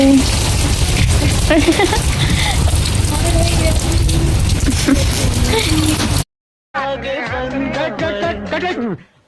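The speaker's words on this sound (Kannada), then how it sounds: "ಎಲ್ಲೆಲ್ಲೋ ಮಳೆ ಮಳೆ" Steady, dense patter of rain falls loudly and without break for about six seconds, then cuts off briefly before a different busier passage with voices and music-like tones resumes.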